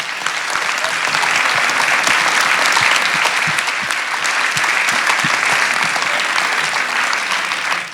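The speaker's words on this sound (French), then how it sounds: "je propose qu'on applaudisse chaleureusement Virna" A seated audience gives warm, sustained applause at the close of a talk on hypnosis and psychotherapy, dense even clapping holding strong and loud for several seconds before tapering at the end.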